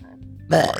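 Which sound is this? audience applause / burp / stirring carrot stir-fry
burp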